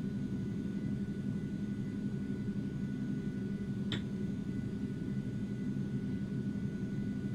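An Aerobask Eclipse 550NG jet in a flight simulator spooling for takeoff on the runway, a steady low engine rumble with a constant high whine, and one brief chirp midway.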